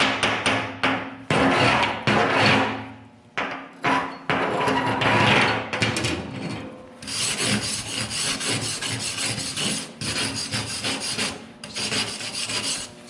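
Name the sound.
chipping hammer chipping welding flux off weld bead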